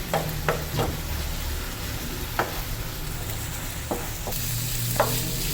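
Onions frying in a pan for a chicken bun filling, with a steady close sizzle and several sharp scraping stirs of a spatula spread across the clip.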